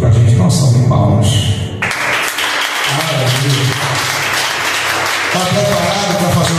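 At a Baptist church service, a congregation claps after a short opening sound, a broad sustained wash of applause with music or voices mixed in beneath.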